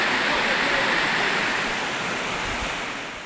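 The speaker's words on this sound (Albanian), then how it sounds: "Është një burim natyror ku uji del nga toka me një rrjedhë të pastër e të ftohtë gjatë gjithë vitit." A natural spring at Vaska e Curelit, where cold, clear water flows from the ground, gives a steady rushing wash of water, close and even throughout and fading slightly at the end.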